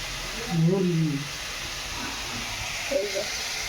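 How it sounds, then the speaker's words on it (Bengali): Chicken cooks in a pan on a cold winter night, giving a steady broadband sizzle and hiss throughout, with brief bursts of a voice speaking over it. "এই যে চিকেন রান্না হচ্ছে"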